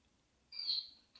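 A single thin, high-pitched bird call rises briefly, then a faint short chirp follows; fairly quiet and clear against near silence.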